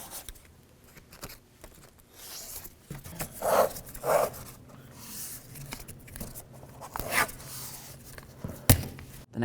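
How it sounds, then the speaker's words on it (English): Adhesive tape is torn off a roll and pressed over the door window of a 1988–2002 GMC Sierra 1500 truck, a few rasping ripping bursts among quieter handling noises and a sharp knock near the end. "Let's tape up this window."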